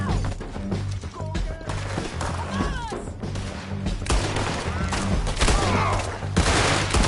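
Gunfire in a Red Dead Redemption 2 shootout: rapid, overlapping shots crack in dense bursts with thuds and impacts, near and loud, while a low musical drone runs beneath and brief shouts come through.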